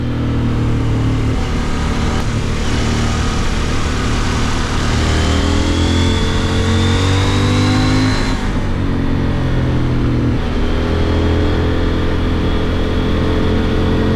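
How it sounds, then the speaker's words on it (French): CF Moto 800MT motorcycle engine pulling hard through the gears, a loud, close drone with rising pitch sweeps, a gear change around the middle, then climbing again. "Les accélérations quant à elles sont franches, le moteur sonne bien."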